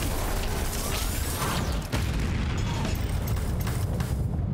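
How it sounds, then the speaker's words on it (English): Explosion in the video game Hi-Fi Rush: a dense, sustained roaring blast with crackling bursts and a brief dip midway, loud and close throughout, no voices. "She's gonna fucking explode?"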